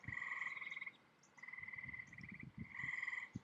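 Frogs croak on a summer night in a steady, trilling chorus, repeated in several bursts with short gaps, with lower, knocking calls underneath at moderate distance.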